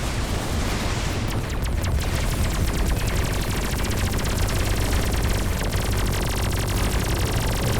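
Turret on a spaceship in Everspace 2 firing in a continuous rapid stream of shots, loud and dense throughout, mixed with constant blaster and explosion noise from combat.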